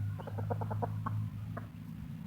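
A young gamecock gives a quick run of rhythmic clucks, then a couple more scattered ones, close and fairly soft over low background hum.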